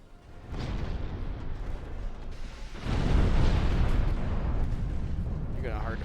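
Torpedo explosions in the naval game Ultimate Admiral: Dreadnoughts arrive as a deep, rumbling roar that swells after a few seconds and stays heavy, with faint voices underneath.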